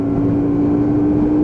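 A Hyosung GV125 motorcycle pulls away, its engine a loud steady drone with a strong constant tone, close and unbroken throughout, with wind rushing over it.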